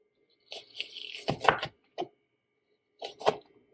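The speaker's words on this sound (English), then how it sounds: "I'm going to try and cut them up a little bit more" A knife cuts through frozen pierogi being sautéed with burnt onions: a cluster of crunchy chopping strokes in the first second, one short isolated cut, then a final pair of cuts after a pause.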